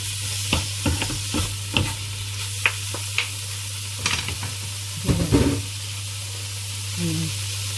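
Rice noodles, pork and vegetables being stir-fried in a pan: scattered scrapes and clacks of stirring over a low steady sizzle and hum, with a brief burst of louder frying near the end.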